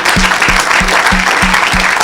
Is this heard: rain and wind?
no